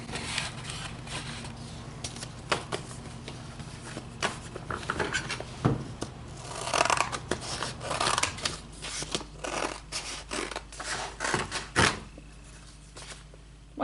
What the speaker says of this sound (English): The first thing we're going to do, though, is to cut our piece of paper in 3 sections.